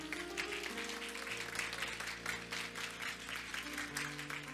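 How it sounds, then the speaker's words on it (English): A church congregation claps steadily and continuously during a Sunday service, with sustained musical tones underneath. "Give God a hand clap of praise."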